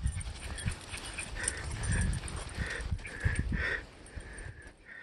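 A dog outdoors in the mountains of Mora County, New Mexico, gives soft, repeated whining and panting sounds near the listener amid a faint outdoor background.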